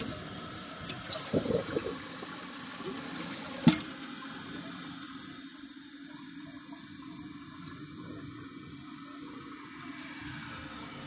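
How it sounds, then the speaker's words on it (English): A Kohler Wellworth toilet from 2009 is flushed a second time: a few clunks and a sharp knock from the handle, then water rushes and settles into a steady, quiet refill hiss. "Let's see how it does on a second flush."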